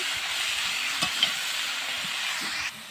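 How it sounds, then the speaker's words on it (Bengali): Bottle gourd stirred into a pan of fried shrimp, giving a steady close hiss of sizzling with soft scraping strokes and one or two sharper clinks, no talking. "এবার এই যে লাউটা দিয়ে দেবো, এই যে দেখতে পাচ্ছি লাউ কোচাটা দিয়ে দিলাম। এবার নাড়াচাড়া করে নেব।"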